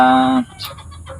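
A single loud, drawn-out chicken squawk, then a few softer clucks trailing off nearby.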